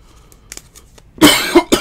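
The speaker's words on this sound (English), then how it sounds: "he's coughing all over the cards" A man coughs several times in quick succession, close and loud, after a quiet stretch with faint soft sounds.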